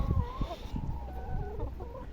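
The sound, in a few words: chickens clucking on a ranch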